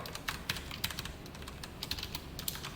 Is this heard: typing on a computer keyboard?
yes